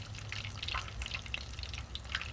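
Korean fried chicken frying in hot grease, a soft continuous bubbling crackle with scattered pops over a low hum, fairly faint and close.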